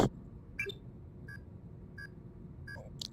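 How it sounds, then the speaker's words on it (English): Short electronic beeps from the Star Trek Bridge Crew video game sound in a sparse, regular series of about five quiet tones over a low background hum, with a soft click at the start. "Beep beep beep beep."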